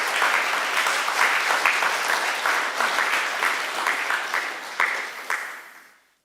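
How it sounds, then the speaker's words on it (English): An audience at an evening public talk in a concert hall applauds, dense and steady, then fades out at the end. "Let's give our contributors tonight a round of applause for all they've done."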